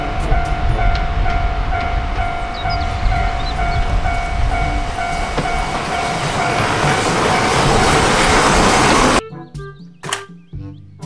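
A Thomas toy train runs with a steady, loud rumbling clatter for about nine seconds, then the sound breaks off into a few sparse knocks and clicks.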